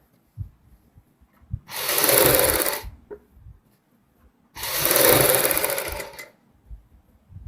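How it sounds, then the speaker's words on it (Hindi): Sewing machine stitching along a folded kurti neckline, two sustained bursts of fast, even whirring, each a little over a second long, separated by quiet pauses with small handling clicks. "गले को अंदर की साइड फोल्ड करते हुए ऊपर से हम सिलाई लगाएंगे आधा पैर चौड़ी"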